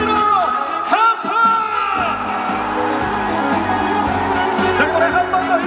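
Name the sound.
concert crowd shouting and cheering on request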